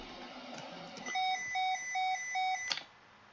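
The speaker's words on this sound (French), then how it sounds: "Et ça arrête l'alarme sonore." An aircraft master caution alarm: a repeating electronic tone pulses four times in an even rhythm, then cuts off abruptly with a click as the Master Alarm button is pressed.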